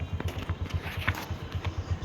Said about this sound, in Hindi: तो भाई साहब ये रहा स्कूटर चालू है।